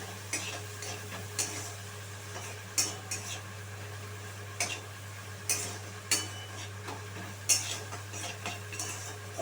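Onions fry with salt in a pan for a soybean poppy-seed dish, a soft steady sizzle under repeated scraping stirs of a utensil against the pan at irregular intervals, fairly close and quiet.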